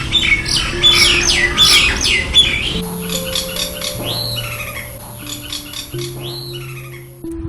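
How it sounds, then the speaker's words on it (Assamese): A house myna calls loudly and close, harsh squawks and chattering notes in rapid bursts, followed by varied whistles and clicks with short pauses, no voices. "এইটো ঘৰশালিকা চৰাই মাত।"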